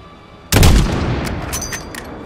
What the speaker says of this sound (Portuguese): Esses tiros estão vindo da estrada!